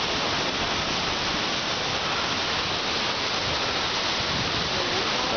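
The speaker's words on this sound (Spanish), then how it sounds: "Hoy día está bien cargada esta cascada." The Antancayo waterfall runs heavy with water, sending up a loud, constant broadband roar from close by that stays unbroken throughout.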